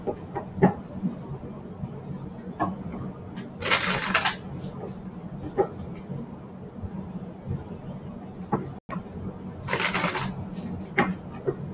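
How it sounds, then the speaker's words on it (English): Oracle cards from a Romance Angels deck by Doreen Virtue are shuffled and pulled, giving two brisk riffling bursts of card noise with soft handling sounds between them and a voice speaking throughout. "Now I'm going to pull a card from the Romance Angels Oracle deck by Doreen Virtue."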